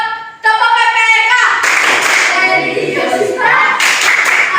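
A classroom group performs the Tepuk PPK clapping chant, loud rhythmic claps combined with children's voices chanting together, starting after a short sung tone.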